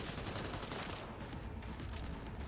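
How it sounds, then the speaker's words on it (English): Automatic weapon fire in Cyberpunk 2077, a dense continuous burst of rapid shots running the full length, loud and steady with no talking. "This auto fire only any good when I'm right up against things anyway"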